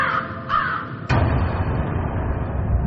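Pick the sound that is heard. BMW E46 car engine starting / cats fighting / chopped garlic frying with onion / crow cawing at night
crow cawing at night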